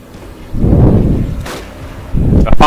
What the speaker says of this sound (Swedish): Ja, han skjuter bazooka hit!